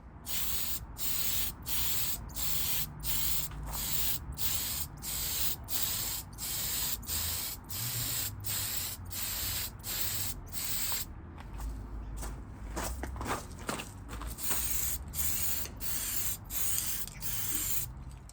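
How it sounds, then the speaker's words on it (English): Short bursts of spray paint hiss onto a Tamiya Lunchbox model car tail lamp part in a steady rhythm, about one per second, with a brief pause midway before the even bursts resume. "let's go and spray it and see how that comes out"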